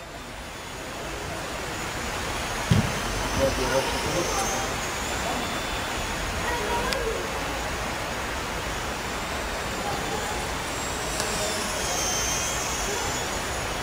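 An Extra 330 remote-controlled aerobatic model airplane flying fast at an indoor five-a-side pitch gives a steady whining engine drone throughout, fairly distant and continuous, with faint voices in the background.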